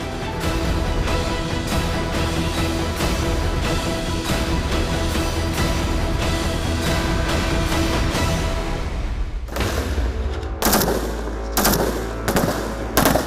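Light machine guns fire 5.56 mm rounds just overhead of a trench during Gorkha Rifles training: long, dense, continuous rattling bursts, then a few separate sharp volleys near the end, very loud and close.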